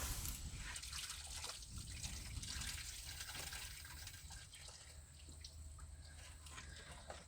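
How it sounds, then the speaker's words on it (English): Engine coolant draining from a 1972 C30 tractor into a bucket, a faint continuous trickle and drip of liquid with low background rumble, no talking. "We're fixing to lose a lot of water over here, so let me get my bucket over there."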